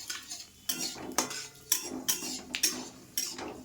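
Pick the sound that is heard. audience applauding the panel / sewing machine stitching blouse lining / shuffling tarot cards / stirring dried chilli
stirring dried chilli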